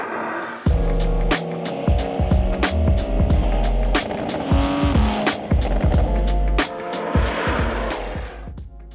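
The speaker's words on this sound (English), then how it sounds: "we're taking one of the most iconic sports cars through Southern California's best driving roads." A Speed Yellow Porsche 992 GTS sports car drives winding Southern California mountain roads on Angeles Crest Highway 2. The engine revs rise and fall loudly, with repeated sharp transients and tire noise through bends, and nobody speaks.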